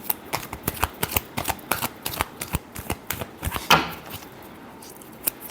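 A deck of tarot cards is shuffled by hand in quick repeated riffles, giving crisp rapid flicks at a brisk rhythm, close and fairly loud, with a short pause and a fuller riffle midway and no talking.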